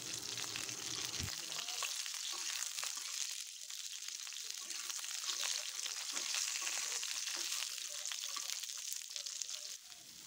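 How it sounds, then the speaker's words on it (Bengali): Pointed gourd (potol) frying in hot oil, turned and stirred: a steady close sizzle with scattered soft scrapes and clicks of the spatula throughout, no talking. "পটলটাকে খুব ভালোভাবে উল্টে পাল্টে ভেজে নিতে হবে।"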